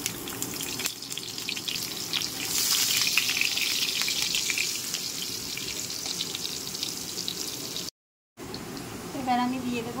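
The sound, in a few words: potatoes added to hot oil, frying and sizzling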